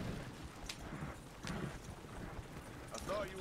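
Horse hooves clip-clop at a slow walk in Red Dead Redemption 2, a few spaced, fairly quiet thuds against low background ambience.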